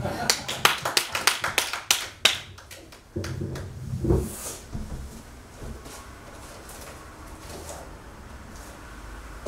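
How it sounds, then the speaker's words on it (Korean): Church congregation claps at a Sunday worship service, with a burst of sharp, close hand claps over the first few seconds that thins into scattered taps and room noise, with a voice heard partway through. "이럴 때도 박수 한번 주시면 좀."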